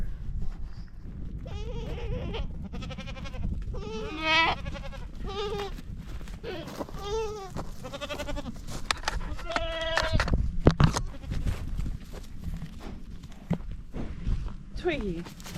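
Goat bleats come in several wavering calls across a barnyard, while a person keeps calling to the animal and footsteps shuffle nearby.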